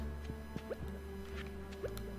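Water drips and small liquid plinks in Stardew Valley, several soft droplet sounds spread across a quiet game background with faint musical tones.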